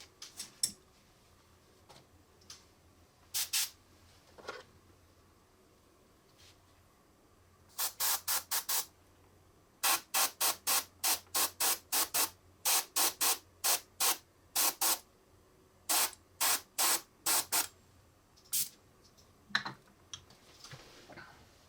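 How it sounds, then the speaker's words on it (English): Short bursts from a spray can or airbrush misting paint onto a Hulk miniature, some single and many in quick rhythmic runs, close and crisp against a quiet room. "I'm going to be spraying at an angle, so about 45 degrees."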